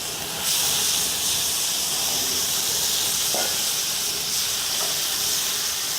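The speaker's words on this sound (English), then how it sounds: "We're using high heat on this, and it's just searing it off." Flank steak searing over very high heat, a steady loud broad hiss and sizzle that starts abruptly and holds without a break, with a couple of faint clinks in the background.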